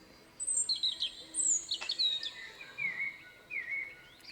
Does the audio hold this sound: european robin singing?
yes